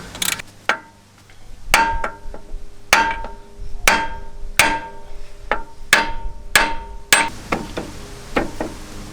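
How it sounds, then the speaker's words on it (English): Sharp metallic hammer strikes on a swivel hub to pop out cone washers ring out one after another, about a dozen in a loose rhythm, each leaving a short clanging ring. The strikes are close and loud. "we're going to hit this with a hammer to pop out the cone washers"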